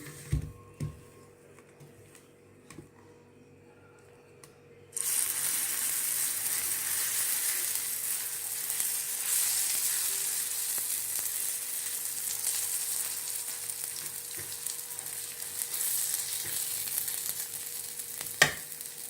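Adai dosa batter hits sesame oil on a hot stone griddle and bursts into a loud, steady hiss after a few quiet seconds, sizzling on alone with no talk.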